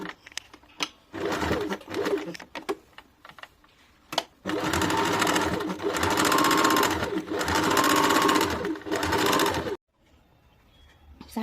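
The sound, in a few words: sewing machine stitching a kurti seam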